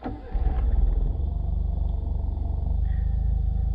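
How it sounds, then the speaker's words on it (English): A Suzuki Cappuccino's small engine cranks and catches, then settles into a steady, throbbing idle close by, loud and even. "really, we're here to listen to this little engine"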